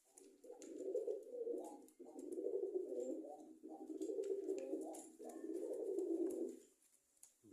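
A pigeon coos in steady, rounded phrases near its cage and nest, four or five rising-and-falling bursts in close succession at moderate loudness, the bird clearly unsettled by a rearranged nest.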